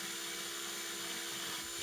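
Drill bit boring gently into a soft plug while making a DIY mini XLR connector, a steady, even whine at moderate loudness with no pauses and no talking.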